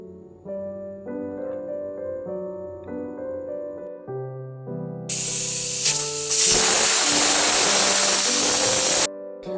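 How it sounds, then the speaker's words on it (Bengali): Onions rinsed under running water in a kitchen: a steady, bright rush of water starts midway, loud and close, following several seconds of sustained tones. "চলো এখন রান্নাঘরে গিয়ে এগুলো ভালো করে ধুয়ে নিই পেঁয়াজগুলো"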